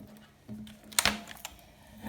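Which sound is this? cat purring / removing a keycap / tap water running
removing a keycap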